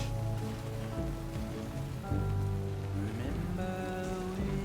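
Rain falls steadily in the video game Death Stranding, a continuous hiss over a droning, tonal hum that shifts in pitch partway through.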